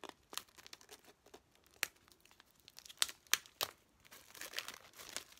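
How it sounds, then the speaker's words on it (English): Scissors cutting plastic wrapping off a flip book, heard as sharp crinkles and tearing snips scattered irregularly through a quiet, close-up stretch with no talk. "I'm very carefully gliding the scissors there"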